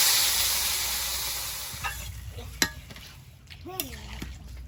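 Water is poured into a curry of raw banana, potato and tomato frying in a pan. It hisses in a loud burst of steam that fades, followed by a few scattered clinks and a brief background voice.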